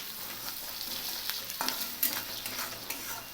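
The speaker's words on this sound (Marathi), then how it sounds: "परत हलवून घेऊ." Kolhapuri upit mixture with turmeric and salt being stirred in a hot pan, soft sizzling under repeated scraping strokes of a spoon, with a couple of sharper clinks against the metal, close by.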